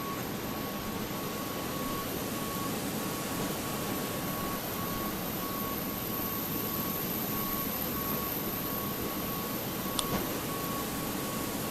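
Steady, distant roar of a JetBlue airliner's jet engines, a continuous broadband rumble held at an even level with a faint thin whine running through it, heard without talk.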